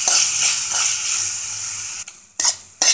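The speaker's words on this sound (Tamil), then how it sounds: "உப்பு நல்லா போட்டுட்டு வதக்கிக்கோங்க" A spoon stirs and scrapes soya chunks sautéing with salt in a sizzling pan, a continuous frying hiss with sharp clattering scrapes near the end, close and loud with no voices.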